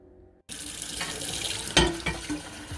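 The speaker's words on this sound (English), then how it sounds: "So I'm gonna put a little water in here." Water runs from a tap into a container after a brief quiet start, a steady close splashing stream with a few louder gurgles and knocks as it fills.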